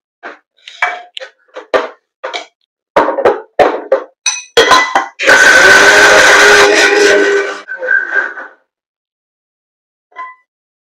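Mixer jar grinding coconut, cumin, green chilli and chana dal with a little water into a fine paste: clinks and short taps, then one loud, steady grinding burst of a few seconds that cuts off.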